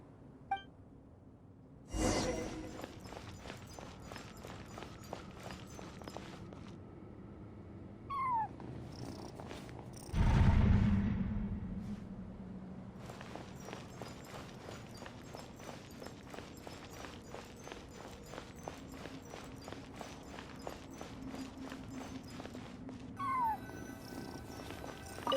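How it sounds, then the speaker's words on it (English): A cat cries in the Genshin Impact video game, faint mews recurring sporadically over ambient game sounds, with a few louder thumps and footsteps. "And so, I followed the cat's cries to find my way out."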